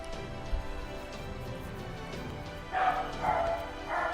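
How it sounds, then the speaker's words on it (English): A dog barks about three times in quick succession near the end, moderately loud and close, over a low steady indoor hum. "That was my dog."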